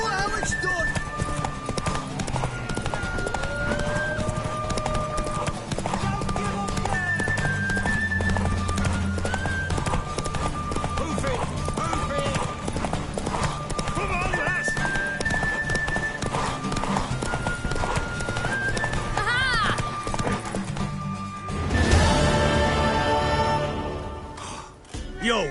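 A horse gallops in The Witcher 3: Wild Hunt, rhythmic hoofbeat clip-clops running under game music and character dialogue, ending with a louder burst of hooves and a whinny.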